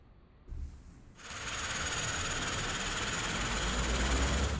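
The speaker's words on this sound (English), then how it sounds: "And now we can start the right engine first." Right engine of a Saab 340 turboprop spooling up in the Prepar3D flight simulator, a brief thump and then a rising broadband roar with a high whine that settles into a loud steady run.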